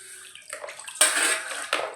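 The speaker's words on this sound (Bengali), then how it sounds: "এবার তোমাদের চোখের সামনে জল দিয়ে ধুয়ে দেখাচ্ছি" Water running and splashing over a cleaned copper puja plate as it is rinsed, a steady close wash with brief louder gushes.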